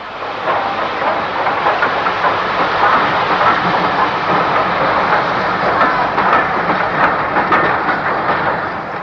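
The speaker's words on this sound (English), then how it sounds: "This is an inspection saloon being hauled by Stanier Black 5 45305." A Stanier Black 5 steam locomotive hauls an inspection saloon on British Railways track, a loud, continuous rumbling rush of train noise with no pauses.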